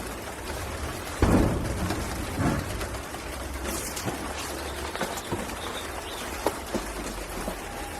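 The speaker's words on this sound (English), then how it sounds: "Oh, I can hear the rain now." Steady rain patters continuously, with a few louder thumps and low rumbles mixed in, and faint bird calls in the background.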